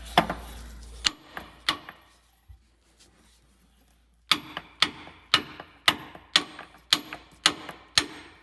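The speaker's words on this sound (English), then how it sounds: "So lots of sledgehammering, just tapping it a little bit at a time" Sledgehammer tapping tapered cones into a fan assembly on an MCI bus during repair: one heavy hit, a pause, then a steady run of about a dozen sharp metallic taps, close and loud, with no talking.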